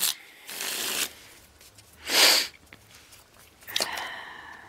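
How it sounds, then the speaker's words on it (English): Three separate riffles of a tarot deck being shuffled, each a crisp papery burst lasting about a second, with quiet pauses between. "one more shuffle"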